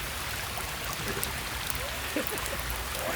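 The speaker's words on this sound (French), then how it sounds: "Des petits ruisseaux là, tellement il pleut." Broadband rushing water and steady rainfall fill the scene, with trickling runoff and scattered drips, constant and moderately loud.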